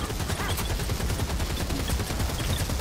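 A gunner's rattling automatic fire in Warhammer: Vermintide 2, a steady, dense stream of loud shots running continuously without pause.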